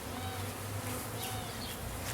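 Honeybees buzzing in an opened hive, a dense close swarm hum with individual bees droning past, steady throughout.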